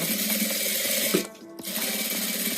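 A sewing machine runs steadily, stitching over an existing seam on a fabric-scrap trash bin, with a loud continuous whir that stops briefly and then resumes.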